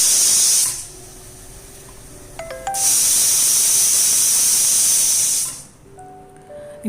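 A pressure cooker cooking pineapple vents steam with a loud, sharp whistling hiss in two long bursts, separated by a quieter pause with faint clinks.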